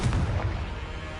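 A Confringo spell explosion in the Hogwarts Legacy video game, a loud, deep blast that booms at the start and rumbles away over about a second, with no talking.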